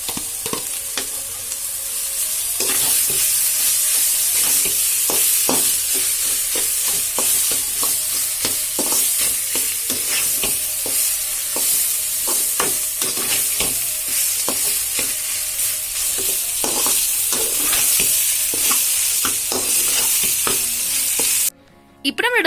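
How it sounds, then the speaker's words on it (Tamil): Potato being stirred into a vegetable bonda filling in a pan: steady frying sizzle with repeated scraping and stirring strokes throughout, close and fairly loud, cutting off abruptly just before the end. "இப்போ இதில் கிழங்கு சேர்த்து நல்லா கலந்துக்கலாம்."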